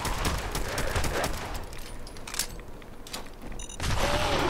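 Rapid .45 pistol shots in the Fallout video game, a quick run of sharp, loud cracks over the first couple of seconds, then scattered softer reports and a loud burst of noise near the end.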